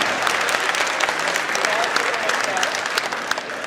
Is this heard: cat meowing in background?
no